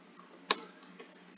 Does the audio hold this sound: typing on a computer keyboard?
yes